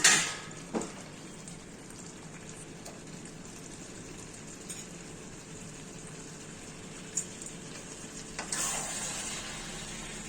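Mutton curry sizzling steadily in an iron wok as the lid is lifted, a continuous close hiss with a few sharp clinks at the start and near the end.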